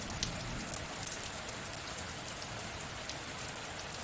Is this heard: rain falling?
yes